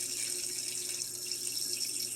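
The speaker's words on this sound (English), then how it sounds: "I just run the water until it overflows out of the tray" Tap water runs steadily into a tray of sunflower microgreens, a continuous close hiss and splash filling the sink with no talk.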